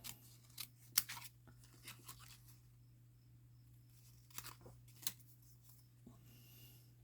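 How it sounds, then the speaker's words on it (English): Scissors snip through stamped paper in a few quick, sharp cuts scattered over a quiet room with a low steady hum, the snips close and crisp with pauses between them. "I'm just grabbing these scissors."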